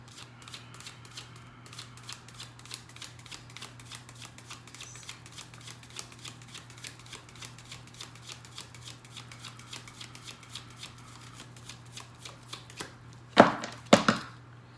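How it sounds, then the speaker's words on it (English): Tarot cards are shuffled by hand in a steady stream of quick, crisp riffling clicks over a low constant hum, ending with a few louder handling sounds. "You can fast forward the shuffling if it's too long for you, but I can't rush this process."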